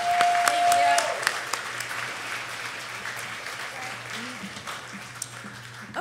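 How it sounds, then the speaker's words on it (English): Applause for a presenter at a live show, moderate clapping from a modest audience that starts fairly strong and thins out, with a brief tone and some voices talking under it. "let's give a round of applause for Tara."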